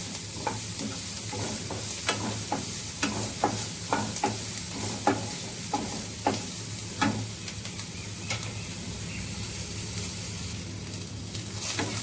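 Onion frying in a pan for dal, a steady sizzle with repeated sharp scraping and stirring strokes of a spoon throughout, close and continuous with no talk.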